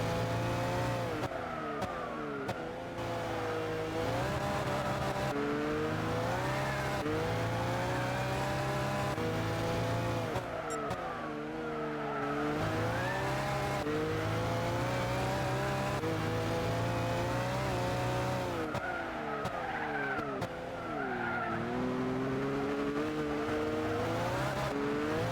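Toyota Minolta race car in Gran Turismo 6, its engine revving loudly and continuously through rising and falling gear changes, with occasional tire squeal, up close.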